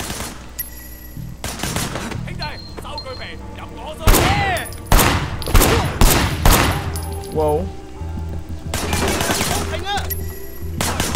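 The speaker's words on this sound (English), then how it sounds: "There was a shooter firing shots from the passenger window" Gunfire in Sleeping Dogs from a shooter leaning out of a car's passenger window: bursts of loud, sharp shots cluster in the middle, over engine and traffic noise, with a man's brief exclamation in between.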